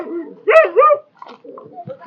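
A village dog barks in two sharp, close yips, then gives softer whimpering and grumbling noises, loud over a quiet rural background.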